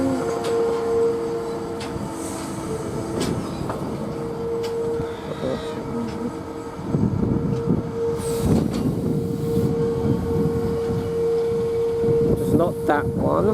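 A freight train without containers rolls through Ely railway station, a steady low rumble with a sustained tonal hum, swelling louder and rougher partway through as the wagons pass close, with a voice briefly audible.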